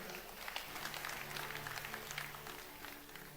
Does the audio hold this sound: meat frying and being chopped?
no